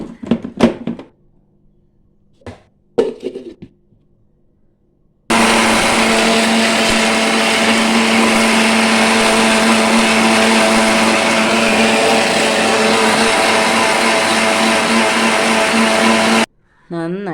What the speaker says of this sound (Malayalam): അത് നമുക്ക് ഒന്ന് മിക്സിയുടെ ജാറിലിട്ട് ഒന്ന് അരച്ചെടുത്തിട്ട് വരാം